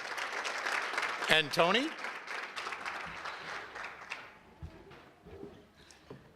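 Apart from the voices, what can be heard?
audience applause at an awards gala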